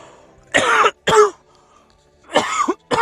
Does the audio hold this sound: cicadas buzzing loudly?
no